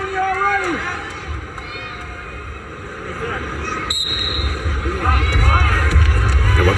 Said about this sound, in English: this is as loud as the crowd has been tonight in Tulsa